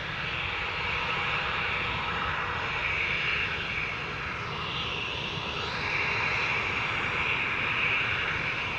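An airliner takes off and climbs away at Amsterdam Schiphol Airport. Steady, broad jet roar holds at moderate distance with a whining tone that dips and rises midway, and no voices.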